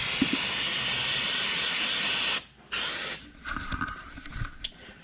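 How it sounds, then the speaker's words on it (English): In a warm shop, an aerosol can of brake cleaner sprays in a loud, steady hiss for over two seconds, then gives a short second burst followed by faint scraping and clatter. "so my brake cleaner works really good. It's got a little extra whop to it."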